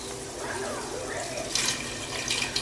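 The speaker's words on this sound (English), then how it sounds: "you're actually going to pour 32 ounces or 4 cups of chicken broth in" Four cups of chicken broth pour into a Ninja Foodi pot, a close, continuous liquid splash and gurgle with a few brighter sloshes near the end.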